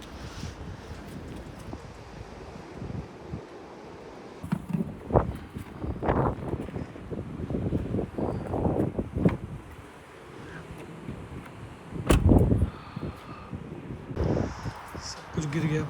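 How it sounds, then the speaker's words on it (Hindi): Strong wind gusting outdoors in the UK during a storm, a steady rushing roar buffeting the microphone with louder bursts, while people talk over it. "कितनी हवा चल रही है।"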